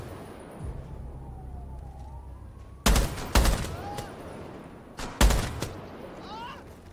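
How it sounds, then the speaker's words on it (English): Gunfire in a first-person shooter game: a few loud, sharp bursts of shots in two clusters, with quieter background game ambience in between and no talk. "I'm shooting him too, goddamn it."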